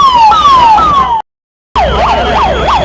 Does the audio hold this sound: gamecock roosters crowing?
no